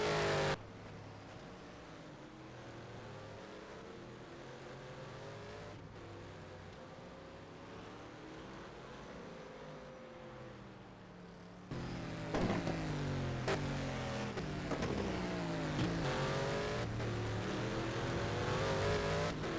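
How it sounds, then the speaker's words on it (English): A race car's engine revs in a sim racing game during an endurance race at Bahrain, holding a droning note before climbing louder through rising gear pulls as it accelerates out of a corner. "And just accelerating out of the corner."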